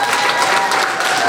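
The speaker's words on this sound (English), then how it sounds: "let's give a big round of applause to our Councilwoman" A crowd claps for Councilwoman Vang at a community gathering, with brisk, dense, loud applause that fills the whole brief moment and has no voices over it.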